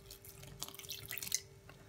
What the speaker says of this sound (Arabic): كمان بحط المي،